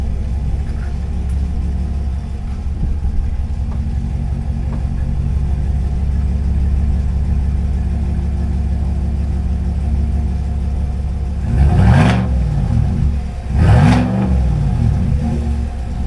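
A Chevrolet ZR2 / GMC AT4X pickup on its stock exhaust idles with a steady low rumble, then is revved twice in quick sharp bursts that rise and fall before settling back to idle.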